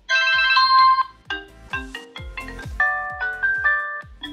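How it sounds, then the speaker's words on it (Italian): Alarm ringtone from a W29 Pro smartwatch, an Apple Watch Ultra clone: a bright, close electronic melody of short repeated chiming notes playing alone for several seconds. "dovremmo avere anche la sveglia che suona"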